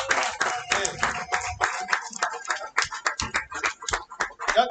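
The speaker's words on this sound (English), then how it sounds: "Let's give them a big round of applause." A small audience claps for barber bootcamp graduates at a graduation ceremony, a scattered, uneven burst of hand claps at moderate volume with a few voices mixed in.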